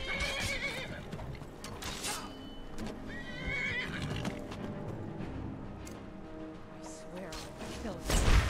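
A horse in the video game Skyrim whinnies loudly several times while hooves clip-clop, over busy game effects and a louder thump at the end.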